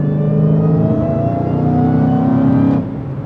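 A Lexus LC500 revs past close by, a loud throaty engine drone climbing steadily in pitch for nearly three seconds before easing off as it goes by.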